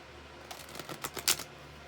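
A deck of tarot cards being shuffled by hand, heard as a short run of crisp riffling snaps and flicks building to a sharper burst near the end, close and otherwise quiet.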